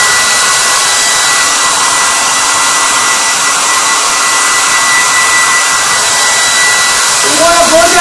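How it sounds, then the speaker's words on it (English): A hair dryer blows steadily and loudly for the whole stretch, a constant rushing whir with no pauses. "So you're gonna get your hot air gun, your blow dryer, anything you want to call it."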